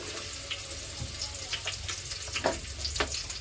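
Ten to twelve garlic cloves fry in a pan for an Agri-style mutton dish, a steady soft sizzle with scattered small pops and crackles, fairly close and heard alone.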